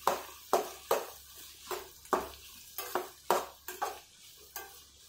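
Onions frying in a pan for a drumstick and tomato curry, with a spoon stirring and scraping in regular strokes, each stroke a sharp rasp over a faint sizzle, no talking.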